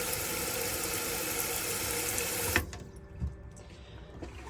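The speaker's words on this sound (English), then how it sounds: "You can then get water coming through the taps, hot and cold." Water runs steadily from the taps inside an Adria Coral Compact campervan, a constant hiss over a pump hum that abruptly cuts off partway, leaving faint clicks and low hum.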